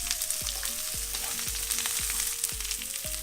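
Scallop and onion sizzle steadily in a hot pan during a stir-fry, with a constant hiss of frying under repeated rhythmic stirring or tapping sounds, close and alone without talk.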